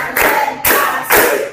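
A classroom group claps in unison three times in a steady rhythm, each clap a sharp burst of many hands together, loud and close.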